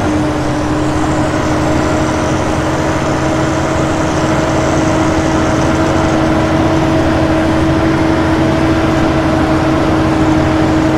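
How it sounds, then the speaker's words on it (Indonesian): A car engine held steady at 2000 rpm, a loud, constant hum with a steady tonal drone and no change in pitch, running alone throughout. "ini ditahan sama Pak Lili pada 2000 rpm"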